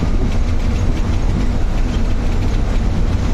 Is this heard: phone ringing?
no